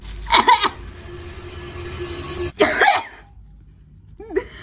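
A few harsh coughs close by, a short burst at the start and another a couple of seconds later, with a faint sound trailing at the end.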